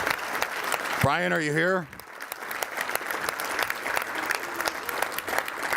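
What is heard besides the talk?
audience applause for an award winner at a luncheon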